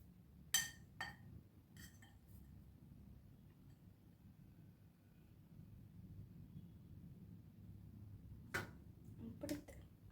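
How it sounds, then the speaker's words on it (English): Two forks coat an Oreo truffle egg in melted chocolate, giving a few sharp metallic clinks against a bowl in quick pairs near the start and end, with a long quiet stretch between them. "I'm going to dip one into the chocolate and roll it around."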